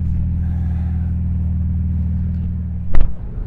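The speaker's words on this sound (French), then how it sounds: "ici c'est le souffle rauque du turbo" A Porsche GT3 RS on a circuit gives a loud, close, steady low rumble from its engine, with a brief sharp burst near the end and no voices.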